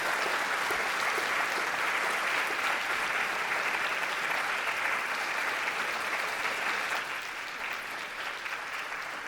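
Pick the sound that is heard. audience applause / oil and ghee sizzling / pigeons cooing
audience applause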